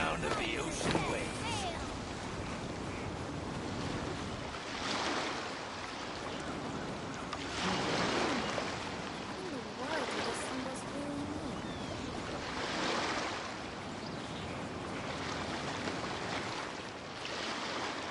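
Ocean waves in the video game Genshin Impact roll in faint, regular surges of soft surf wash every few seconds, a quiet continuous backdrop.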